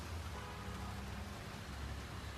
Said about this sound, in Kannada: ಅಷ್ಟೊತ್ತಿಗೆ ಮಳೆ ಬಂದ್ಬಿಡ್ತೀವಿ.